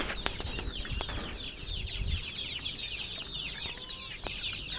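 Purebred foreign laying hens in a covered coop cluck and chatter in a steady busy chorus, with occasional sharp wing flaps and scuffles nearby.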